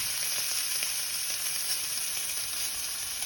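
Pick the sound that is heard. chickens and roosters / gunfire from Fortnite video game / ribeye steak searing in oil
ribeye steak searing in oil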